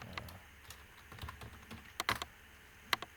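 Keys on a computer keyboard tap quietly and unevenly, a sparse run of close, light clicks with a few sharper strokes toward the end.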